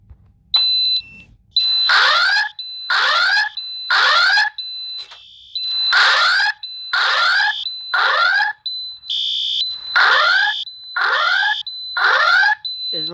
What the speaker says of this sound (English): what the fire alarm sounds like at my school